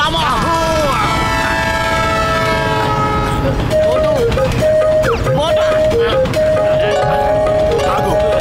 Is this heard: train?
yes